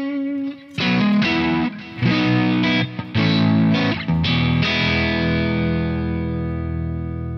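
An electric guitar played through the M-Vave Tank G on a low-gain overdrive amp preset: several loud strummed chords and short riffs, then a final chord left ringing out, close and with no talking.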